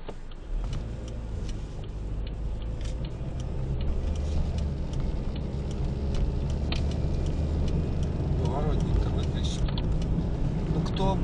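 A car pulls away during a driving lesson with an elderly learner at the wheel, a steady low engine hum with gentle acceleration, an indicator ticking and voices talking inside the cabin.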